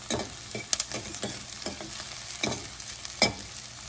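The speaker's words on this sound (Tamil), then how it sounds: "கொஞ்சம் நல்லா கலக்கிட்டு கொஞ்சம் ப்ரௌன் கலர் வரும் வெங்காயம்" Sliced onions frying in a small amount of oil in a pan while being stirred, a steady soft sizzle broken by scraping spoon strokes, close and moderately quiet, with no talking.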